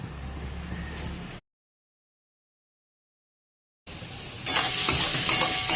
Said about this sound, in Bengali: এটা খানিকক্ষণ ভাজতে হবে।